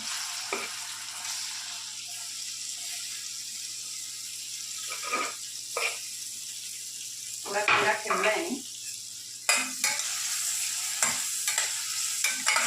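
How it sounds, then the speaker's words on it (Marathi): Chopped onion tossed into a pan of hot butter and oil for pav bhaji, a steady sizzle with intermittent scraping stirs and a few louder clatters, close and continuous, with no talk. "बटर आणि तेल सगळं मिक्स होणार आहे आणि आता आपण याच्यात कांदा टाकूया"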